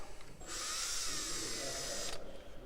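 A power drill fitted with a cheap, junky bit spins up for under two seconds, a bright steady whine that starts and stops abruptly over a low room hum, fairly quiet overall.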